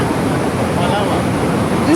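A rocky mountain river near Tahoe rushes loudly and steadily, a dense wash of churning water right at the bank with no pause.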